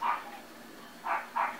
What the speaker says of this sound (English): Oh, God, that dog is barking.